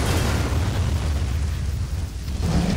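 Artillery shells exploding in the video game Men of War, a dense, continuous roar of heavy rumbling booms that stays loud throughout with no clear gaps.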